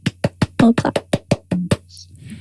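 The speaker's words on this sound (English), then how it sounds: "I'll give you a little clap." A short run of about ten sharp hand claps in an uneven rhythm, close and clear, ending in quiet.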